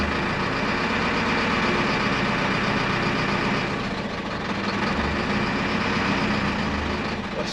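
Mercedes Vario truck engine held loud and close in fifth gear while the clutch is tested, a steady heavy drone that shifts slightly partway through.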